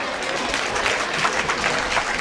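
Audience applause at a family community gathering in Mumbai, continuous dense clapping from a crowd at moderate loudness, with faint voices mixed in.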